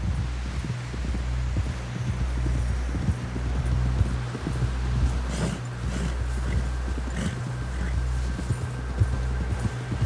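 A horse gallops in the Red Dead Redemption game, hooves pounding in a steady rhythmic clip-clop under a low rumble, close and continuous for the whole stretch.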